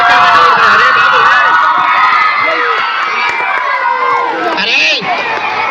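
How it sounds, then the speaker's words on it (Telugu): A school ceremony audience, largely children, shouts and cheers in a loud, dense roar of overlapping voices filling the hall, with whoops rising out of the din and a brief dip near the end. "కేకలు వేయద్దండి, ఎవరు కూడా కేకలు వేయద్దు"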